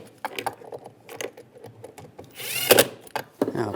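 A handheld power tool drives and tightens screws while fitting a center console hinge repair kit in a 2007-2013 Chevy Silverado, with short close bursts of whirring between quieter handling sounds.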